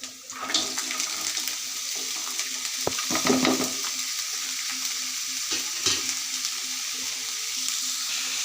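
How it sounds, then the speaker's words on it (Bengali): Carrots, cauliflower and onion tumble into hot oil and fry with a loud, steady hiss, broken by a couple of sharper splashy surges as the vegetables are moved, close and continuous. "এখন আমি আমার সবজিগুলো দিয়ে দেব"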